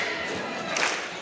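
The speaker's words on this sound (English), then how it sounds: "now the crowd and the players are getting into it" Crowd at a girls' high school basketball championship game cheering and roaring, a steady wash of many voices that swells briefly near the end.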